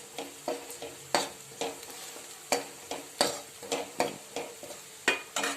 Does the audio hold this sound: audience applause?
no